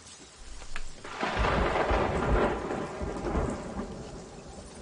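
A thunderstorm in the pirate game Sea of Thieves rolls in as a loud, sustained rumble of thunder over steady heavy rain.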